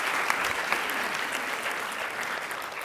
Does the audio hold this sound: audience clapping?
yes